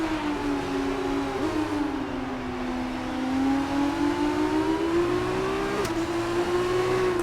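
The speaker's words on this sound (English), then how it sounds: "me listening to the sound of the engine." A Formula One car engine in a racing video game drones steadily at high revs with DRS enabled, its pitch sliding slowly down and back up as the throttle shifts, loud and continuous without any talking.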